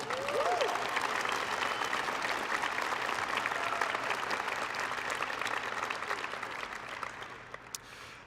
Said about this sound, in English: Now, please applaud to recognize them all.